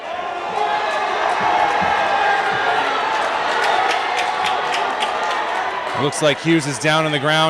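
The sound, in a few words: crowd cheering at a basketball game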